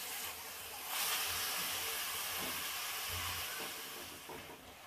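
Mutton sizzles and hisses steadily in a hot pan while being sautéed for kosha, a continuous close frying hiss that swells slightly early on and fades a little toward the end, with no talk.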